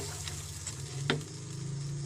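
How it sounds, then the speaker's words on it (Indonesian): Water and sugar heating in a pan for a sweet dark squid dish, giving a steady low sizzle and bubbling with a brief louder hiss partway through, close and alone. "Tunggu air ini mendidih dan gulanya lumat."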